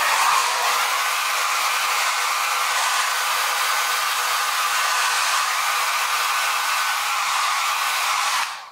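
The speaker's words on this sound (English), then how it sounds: "I'm just going to pop the dryer on that as well" A hair dryer blows steadily on a loose watercolour washing-line painting, a loud, close, unbroken whoosh and whine that starts at once and holds level throughout before cutting off at the very end.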